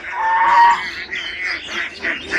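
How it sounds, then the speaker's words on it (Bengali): Ducks at a large duck farm give loud, close squawking and honking calls, one long call followed by shorter overlapping quacks. "এবং অসংখ্য হাঁস এখানে"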